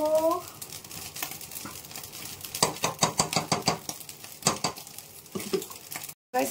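Payesh rice pudding with ghee is stirred in a pot, giving repeated close scraping and clinking spoon strokes in an uneven rhythm, with a brief voice at the start.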